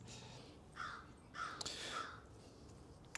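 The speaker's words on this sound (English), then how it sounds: "That is a scary crow." A crow caws outdoors, three or four harsh calls spread over a few seconds, moderately distant and quiet against a faint background.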